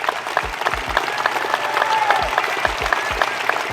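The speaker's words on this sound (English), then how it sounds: "I'm gonna let this get claps." An audience applauds at a motivational talk, a dense, steady wash of clapping with sharp individual claps standing out near the front, and faint crowd noise underneath.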